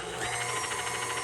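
An electric stand mixer whisks egg yolks and sugar in a steady, continuous whir, a dense motor hum with a faint rhythmic churning, close and moderately loud with no talk.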